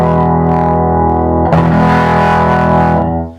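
Electric guitar played through a loud, clean Fender Showman amp with spring reverb, a sustained ringing chord followed by a fresh strum that swells and rings out before cutting off.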